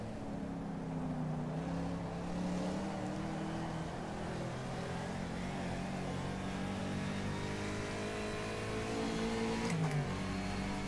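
Howston G4 historic racing car at Historic Brianza in rFactor 2, its engine droning steadily and loudly throughout, with rising and falling harmonic pitch as it accelerates and shifts, plus a brief gear change near the end.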